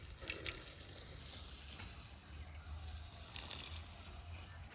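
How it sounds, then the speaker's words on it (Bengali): Water poured over a straw-covered water spinach seed bed in a garden, a faint, continuous splashing trickle with slight surges, heard quietly and alone. "খড় চাপা দিয়ে এবার একটু জল দিয়ে দিচ্ছি।"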